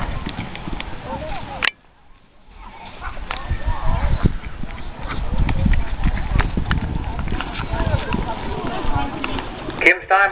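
Hooves of a horse clop in a quick, rhythmic gallop on soft ground during a timed run, fairly close, with crowd noise and a loudspeaker voice mixed in.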